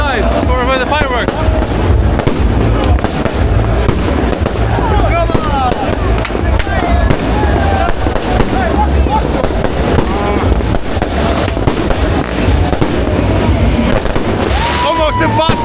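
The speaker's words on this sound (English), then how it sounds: "Push me aside for the fireworks." Fireworks burst loudly and continuously at a street celebration of a Dutch PSV football championship, with crackling explosions layered over a roaring crowd and shouting voices.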